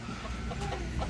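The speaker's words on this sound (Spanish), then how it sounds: "los gallos que se van a emplumar, los gallos que no van a pelear, estos pollitos que se acaban de recoger del patio para que se hagan gallos" Young roosters and chicks cluck and chatter together in a pen, a brief, faint murmur of fowl sounds close by.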